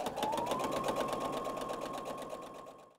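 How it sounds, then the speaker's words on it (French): A sewing machine stitches a quilt-as-you-go baby bib in a fast, steady run of rapid needle strokes, close and clear, slowing to a stop at the end. "je continue à coudre cette queue-là qui reste jusqu'à la fin"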